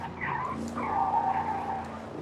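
A car in the racing game Forza Horizon 5 skidding, tyres squealing steadily over a droning engine for a couple of seconds, loud and continuous.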